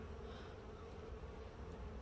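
Honey bees buzz inside a beehive box holding tens of thousands of bees, a soft, steady low drone with no pauses and no voices.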